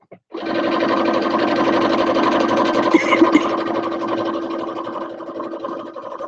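A sewing machine starts up and runs steadily at high speed, a close, loud mechanical whir that holds for several seconds.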